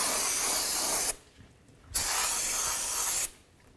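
Aerosol brake cleaner sprayed onto the rear e-brake shoe area of a 2007-2017 Ford Expedition during a brake job: two long, loud, steady hissing bursts, each about a second or more, separated by a short pause, close up with no talk.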